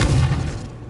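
A single deep, booming spell impact cast in the video game Hogwarts Legacy, loud and close at the onset, then fading out over about a second.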